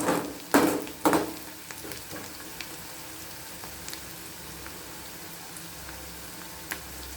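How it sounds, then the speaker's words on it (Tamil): Onions and aromatics sauté in a pan for tomato pachadi, a faint steady sizzle with a few sharp scraping stirs near the start and scattered light clinks. "இப்போ பாருங்க இன்னும் கொஞ்சம் வதங்கணும்"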